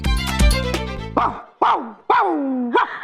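A person imitates a dog, giving a few loud, close, yelping barks one after another with short gaps between them, following a brief burst of other noise at the start.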